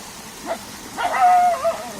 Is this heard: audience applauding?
no